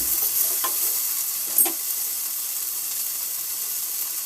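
Green beans fry in hot oil for a beans curry, giving a steady, close sizzle with a couple of short stirring clinks near the start.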